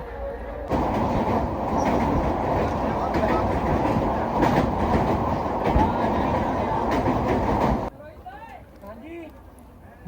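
A passenger train carrying a religious procession from Jalandhar to Haridwar runs on the rails with a loud, steady rumble and rhythmic clatter from the wheels, then drops off near the end. A voice speaks over it.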